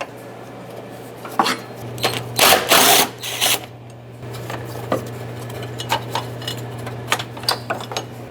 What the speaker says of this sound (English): Use a 13mm socket and remove the 2 bolts that hold the top of the radiator brackets onto the top radiator support.